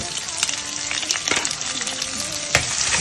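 Sliced onions sizzle and fry in hot oil with salt for a vegetarian fish-style curry, a continuous loud crackle broken by scraping stirs and clinks of the spoon against the pan.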